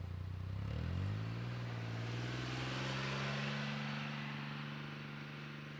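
A Polaris Ranger XD 1500 off-road vehicle drives in tow haul mode. Its engine revs up early, then holds a steady, fairly close drone before easing slightly. No one speaks.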